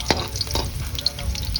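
Ginger and garlic fry in a pan for a fish sinigang sa miso, giving a soft continuous sizzle with a few faint clinks of stirring, close but gentle.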